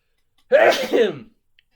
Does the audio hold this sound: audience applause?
no